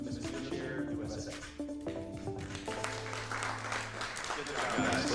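Audience applause at a Miss Wheelchair USA pageant, a broad, steady wash of clapping that holds for several seconds, mixed with a sustained music bed and low crowd murmur.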